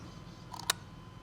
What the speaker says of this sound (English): What a quiet shutter.